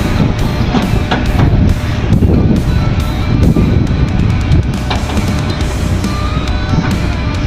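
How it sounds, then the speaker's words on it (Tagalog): Strong wind buffeting the microphone on a boat trip to Marinduque, a loud, continuous rushing roar with gusty thumps throughout. "lakas naman ng hangin."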